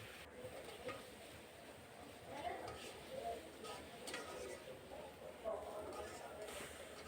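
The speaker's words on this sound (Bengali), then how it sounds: "মশলাকে খুব ভালো করে ধৈর্য সহকারে একটু কষিয়ে নিব।" Onion paste, cumin paste, chili paste, turmeric and salt being stir-fried in a kadai for a dried Bombay duck (loitta shutki) bhuna, giving a steady close scraping and soft sizzle with occasional utensil clicks.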